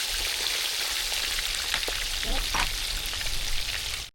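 Fish sizzles and spits in hot oil in a pan, a steady loud crackling frying sound lasting throughout, with no talking.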